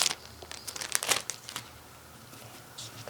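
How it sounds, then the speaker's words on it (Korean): Plastic wrapping crinkles and crackles in close, irregular bursts as a darning needle and cotton thread are unwrapped, then fades to a quieter rustle. "비닐을 풀어서 꺼내 주세요."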